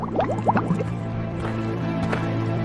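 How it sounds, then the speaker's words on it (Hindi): Water pours into clay pots at a riverbank, a soft gurgling fill with a few bright drips at the start, then a steady liquid wash that continues quietly throughout. "अपने अपने मटके में पानी भरकर"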